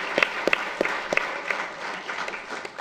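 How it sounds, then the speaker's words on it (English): An audience at a comics festival panel gives a brief round of applause, a thin scattering of separate claps with distinct, evenly spaced hand strikes that thins out toward the end. "I just want to give her a round of applause because she killed it"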